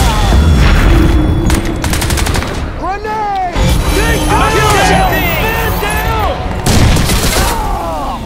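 A grenade blast in the Crysis 2 shooter booms among heavy bursts of rapid gunfire and machine-gun rattle, loud and close, with shouting voices mixed into the battle noise.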